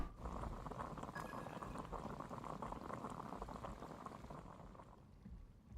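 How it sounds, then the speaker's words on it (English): Water boils in a pot in the video game Genshin Impact, a dense, steady bubbling and rolling simmer that fades out near the end, with no speech. "I'll boil some water."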